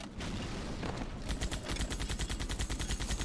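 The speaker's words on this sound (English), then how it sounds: "I got your back, homie, with the machine gun" Rapid machine gun fire from a video game rattles off in a fast, steady burst of sharp repeated shots after a brief noisy lead-in, loud and close.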